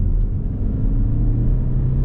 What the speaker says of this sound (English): Nice sort of raspy, rorty note to the engine